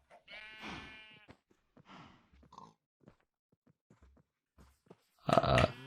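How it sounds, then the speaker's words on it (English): Minecraft sheep bleat in short bursts inside a farm pen, a couple of quieter bleats early and a loud close one at the end, with no talk over them. "Now let's push out the sheep only."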